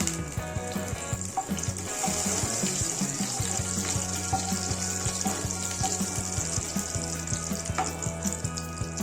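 Dry red chillies and panch phoron five-spice frying together in hot mustard oil in a kadai, a steady, close, continuous sizzle and crackle that lasts throughout with no pauses.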